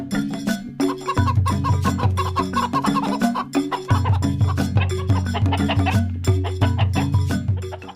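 A flock of chickens being fed clucks busily and continuously, overlapping calls close by over a low droning hum.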